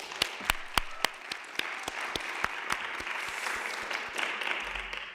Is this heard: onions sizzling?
no